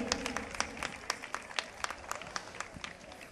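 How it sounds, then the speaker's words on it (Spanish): Outdoor crowd applause for the Bailadores del Teide dance group at a Virgen del Carmen festival offering in Puerto Santiago, distant and fairly faint, with scattered individual claps standing out from the crowd. "Fuerte el aplauso para ellos"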